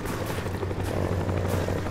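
Enemy Cobra attack helicopter in Call of Duty Black Ops, a loud, close, continuous rotor thrum with steady low pulsing filling the whole moment, no talk over it.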